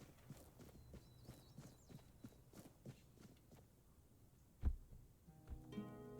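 Hooves clip-clopping in the fantasy video game Tainted Grail: The Fall of Avalon, a steady run of soft, fairly distant footfalls with a sharper thump near the end.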